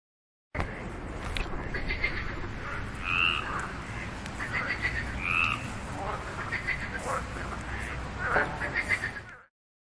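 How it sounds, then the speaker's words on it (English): Frogs croak repeatedly over a dense, noisy chorus of night sounds, with a few louder close calls standing out against the steady background. "Frog."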